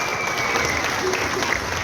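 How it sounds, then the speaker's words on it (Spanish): Audience applause at a spring festival gala in Talca, Chile: steady, dense clapping from a crowd, continuous and fairly close throughout, with a faint voice mixed in. "pido un gran aplauso para ella, Carolina Herrera, nuestra comunicadora y animadora también"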